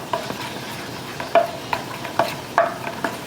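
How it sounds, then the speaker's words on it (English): Fish and chips batter is stirred in a bowl, giving a run of wet, uneven scraping and tapping strokes, close and clear with no talking. "And let's just give that a mix."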